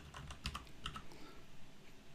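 Rapid bursts of keystrokes on a computer keyboard as tags are entered into a Word document's properties, close and fairly quiet, with short irregular clusters of clicks and brief pauses.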